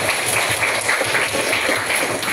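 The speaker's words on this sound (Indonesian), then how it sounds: "Oke, tepuk tangan." A classroom of students claps together in a steady, close burst of applause, fairly loud and even across the whole moment with no voices.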